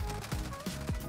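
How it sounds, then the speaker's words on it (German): Gunfire from Call of Duty: Warzone, three or four sharp shots spaced roughly a third of a second apart, loud and close over a dense game soundscape. "Irgendwo links hinter uns ein Schuss."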